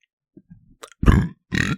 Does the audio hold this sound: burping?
yes